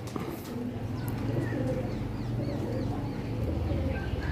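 Pigeons coo in low, repeated throaty phrases amid an outdoor bird market, with faint chirps and some background clatter and distant voices.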